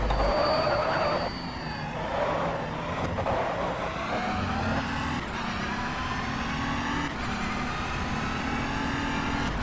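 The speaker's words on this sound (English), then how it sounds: "those 600 horsepower are really pulling the car forward" Simulated engine of a 2012 Audi R18 Ultra Le Mans prototype race car in the GTR2 racing game, a steady loud drone with repeated rising pitch sweeps as gears change under acceleration.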